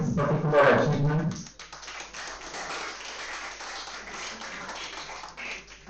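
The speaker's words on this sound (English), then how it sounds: "So we should clap" An audience at a Smart India Hackathon event in a college hall breaks into a steady burst of applause after a voice at the start, the clapping holding a dense, even patter for several seconds.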